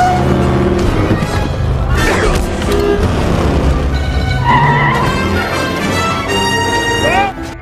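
Motorcycle chase from the 2008 film Indiana Jones and the Kingdom of the Crystal Skull: loud engines, a horn toot and skidding tires mixed with swelling orchestral score and brief shouted voices.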